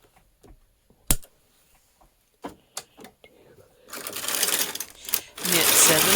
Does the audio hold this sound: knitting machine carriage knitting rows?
yes